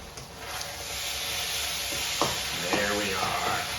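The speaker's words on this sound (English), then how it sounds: "You can hear that sizzle." Meat sizzling in a hot pan during cannelloni preparation, a loud, continuous frying hiss close up, joined near the end by faint voice-like sounds or stirring clatter.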